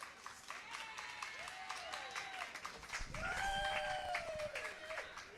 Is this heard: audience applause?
yes